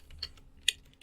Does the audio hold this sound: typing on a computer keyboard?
yes